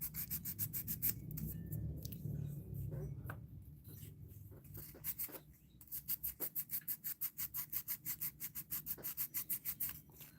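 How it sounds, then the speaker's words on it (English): Light scuffing sand on a thrifted wooden craft piece, a steady rubbing rasp that turns into quick, rhythmic back-and-forth strokes in the second half, close and moderately loud. "Trying to do a light sand because I want to keep the dark kind of in there."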